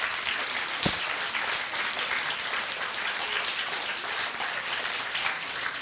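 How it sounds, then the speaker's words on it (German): An audience at a small kimono fashion show at the Japan Festival Berlin 2013 applauds the models and dancers, with steady, dense clapping from a crowd sustained from start to finish. "klatsch doch einfach nochmal für die hübschen Models und Tänzerinnen"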